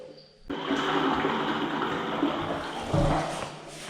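A toilet flushes inside a van in one loud, close rush of water that runs for several seconds and then tapers off. No one speaks over it.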